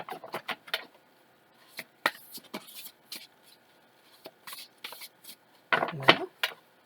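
Tarot cards being shuffled in quick riffling bursts, a few short flurries separated by pauses, close up with no talking.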